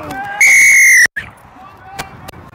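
A referee's whistle at a rugby match gives one loud, shrill blast lasting about half a second, followed by quieter crowd and field noise with a couple of brief knocks.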